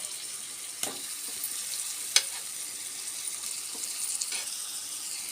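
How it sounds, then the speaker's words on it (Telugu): Boiled potatoes dropped into simmering gravy for homemade aloo and peas chaat and stirred, giving a soft steady sizzle with a few faint clinks and scrapes of the spoon. "ఆ బంగాళదుంప వేయాలి."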